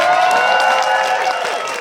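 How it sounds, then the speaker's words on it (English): A comedy show audience bursts into applause and cheering, a short loud wash of clapping from a crowd with voices mixed in. "I need to give a big round of applause to Major Scales"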